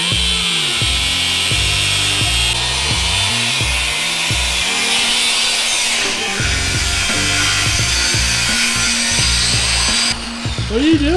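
A power tool grinds steadily through the stock hook of a winch while mounting it on a 3rd-gen Toyota Tundra's bumper, a loud continuous cutting whine running for about eleven seconds with brief shifts in pitch and a voice faintly underneath.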